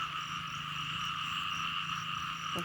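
Constant croaking of many frogs after rainfall fills the night air in an even, buzzing wash, ending with a faint click.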